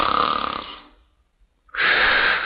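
A woman snores loudly in a film, two long rasping nasal snores separated by a brief silent pause, close and harsh.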